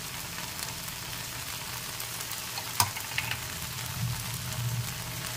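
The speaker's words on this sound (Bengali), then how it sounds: "এবার আমি এর মধ্যে দিয়ে দিচ্ছি ঝাল লঙ্কার গুঁড়ো, ধনে গুঁড়ো, কাশ্মীরি লঙ্কার গুঁড়ো" Hot chili, coriander, Kashmiri chili and turmeric powders frying in a pan for a Bengali fish curry with eggplant, a steady close sizzle with a sharp clink of a spoon and soft stirring scrapes.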